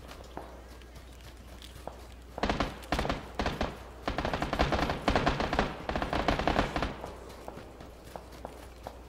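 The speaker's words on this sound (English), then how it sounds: "Is that you being fired at?" Gunfire in PlayerUnknown's Battlegrounds, a burst of rapid sharp shots clustered over a few seconds, fairly close and loud, with softer thuds and footstep-like sounds before and after.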